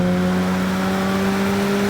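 A Mazda RX7 rotary engine holds a steady, loud rev with a strong sustained tone and no one talking.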